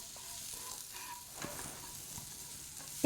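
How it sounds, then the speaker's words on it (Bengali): Potatoes fry and sizzle in a kadai for aloo posto while being stirred, giving a soft continuous hiss with faint scraping stirs. "আলুগুলোকে কিন্তু ভালো করে আমি নাড়াচাড়া করে নেব। এগুলোকে ভাজবো আমি।"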